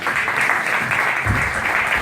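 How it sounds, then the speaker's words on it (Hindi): Applause from the audience at a Hindi-Urdu poetry recital (mushaira) in Slough: a continuous wash of clapping at steady volume, with a faint low voice or murmur joining partway through. "इसके लिए जोरदार तालियां।"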